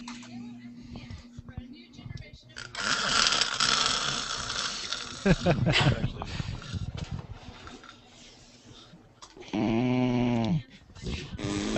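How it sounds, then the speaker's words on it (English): A dog snores in slow, rasping breaths with soft mechanical clicks around it; one louder, drawn-out snore stands out near the end. "That's my dog snoring."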